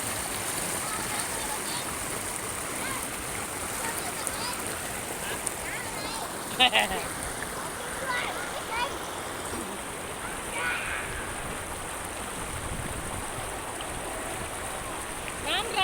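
Continuous babbling and rushing of a nearby stream, close and fairly loud, with no pauses.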